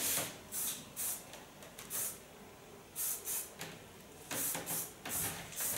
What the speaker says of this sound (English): Ik take myself a nice soft hairspray.